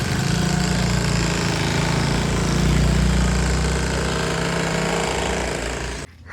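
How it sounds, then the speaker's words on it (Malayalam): Construction work at a nearby house, with a jackhammer or similar machine running continuously and loud for about six seconds before cutting off abruptly near the end. "ആ വീട്ടിൽ പണി നടക്കുന്നതുകൊണ്ട് എൻ്റെ സൗണ്ട് കേൾക്കാൻ പറ്റാഞ്ഞേ."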